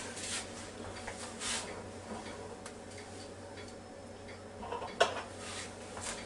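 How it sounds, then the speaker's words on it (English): Metal egg rack set down on a silicone mat inside a Ninja Foodi Deluxe pot, giving soft clinks and light taps with one sharper metallic knock near the end, in a quiet kitchen. "I'm going to set that egg rack on it"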